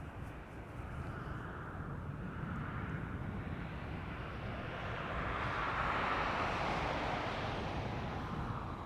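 An ASL Airlines Boeing 737 at Schiphol airport, a steady jet engine roar with a broad rumbling wash that swells slowly toward the end, heard from a distance and without speech.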